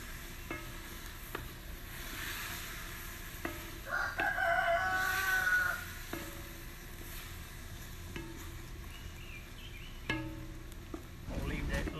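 A young rooster that has not yet found its full voice crows once in a short, strained burst near the middle, set against a kitchen where something sizzles in an old Dutch oven during jambalaya cooking, with occasional clicks and clatter.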